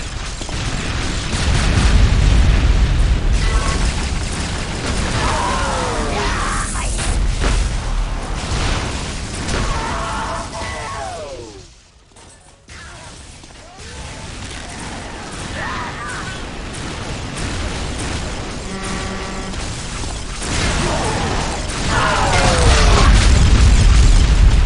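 Explosions destroying the main gate in the video game Unreal Tournament 2004, Assault mode: loud, sustained booming and rumbling with bursts and mechanical clatter, dipping briefly midway before surging again.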